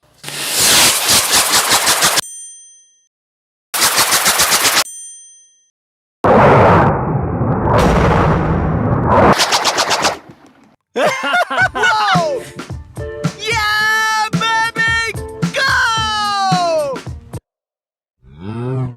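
Two F-class rocket motors fire on a rocket-powered golf club in a loud, roaring burst of about four seconds, framed by sharp bursts before it and warbling tonal sounds after.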